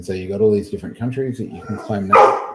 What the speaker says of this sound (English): Oh, that's my dog going off in the background.